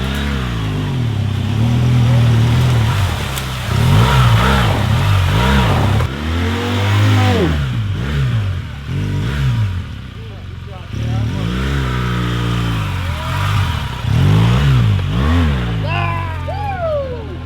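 A motorcycle working through an off-road trials course, its engine revving and dropping repeatedly in loud, close surges of rising and falling pitch, with brief quieter lulls and a voice talking over it.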